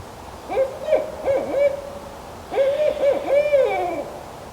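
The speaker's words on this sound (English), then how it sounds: "I'm getting to hang out with this owl so much, and it's hooting" A barred owl hoots at close range in two rhythmic bursts of loud, throaty calls, each series rising and falling, with a short quiet pause between them and no voices present.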